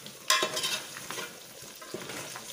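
Pork rinds being stirred in a pressure cooker pot with the heat switched off, a scraping stir and soft frying crackle starting with a sharp clatter, close and moderately loud, no talking.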